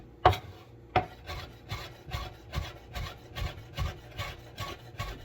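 A very sharp knife slices lemon peel into strips on a board: two sharp initial cuts, then a steady run of soft, rhythmic rubbing strokes, close and quiet.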